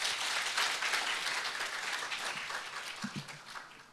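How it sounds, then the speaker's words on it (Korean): Audience applause welcoming a speaker at a peace education forum session, a dense burst of many hands clapping that starts at full strength and slowly thins out over a few seconds. "박수로 맞이하죠."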